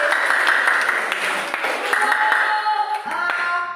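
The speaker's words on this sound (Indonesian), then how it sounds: "Kita beri tepuk tangan untuk kita semua" A classroom of students claps together after finishing an experiment, a steady close wash of applause with a few children's voices mixed in.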